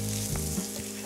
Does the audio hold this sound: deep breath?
no